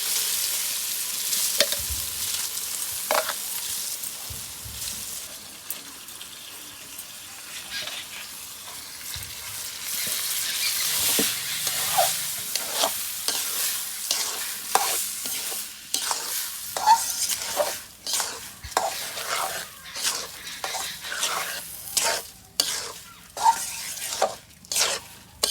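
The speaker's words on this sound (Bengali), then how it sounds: "তো চাল ডাল কষানো" Rice and lentils are stir-fried for bhuna khichuri, with a soft sizzle under steady scraping strokes of a spoon that grow into a quick, rhythmic stirring near the end. Close and fairly loud, with no talking.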